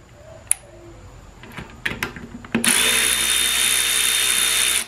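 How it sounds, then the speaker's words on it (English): A power driver fitted with a T25 Torx bit works on a 47RE transmission valve body: a few clicks and taps of handling, then a loud, steady motor whine that runs close for a couple of seconds. "To take all this stuff apart, it's pretty much just a T25 Torx bit."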